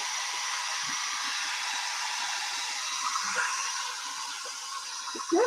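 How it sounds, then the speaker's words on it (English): Hair dryer with an Easter egg set in its airflow, a steady loud broadband whoosh running the whole time, with faint clicks and small bumps and a brief rattle near the end. "Let's see if we can put an Easter egg in the hairdryer."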